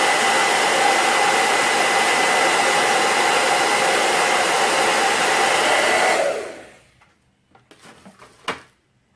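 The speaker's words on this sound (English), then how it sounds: "I'm going to use my handy dandy blow dryer." A handheld blow dryer runs at a steady, loud, close whoosh while drying hair, then cuts off abruptly. A few faint clicks and handling knocks follow in the quiet.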